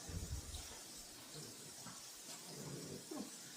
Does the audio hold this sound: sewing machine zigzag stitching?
no